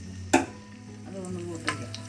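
Raisins being fried in oil in a pan after cashews, giving a soft steady sizzle with a couple of sharp stirring clinks against the pan.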